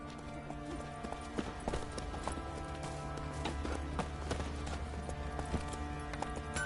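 Horse hooves galloping in The Witcher 3, a rapid, even clatter of clip-clop beats at moderate volume, continuing under faint ambient game music.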